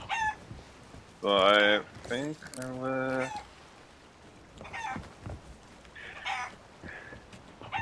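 A chicken in Sea of Thieves lets out loud, close clucks and a rising squawk in short bursts, with someone talking between and over the calls.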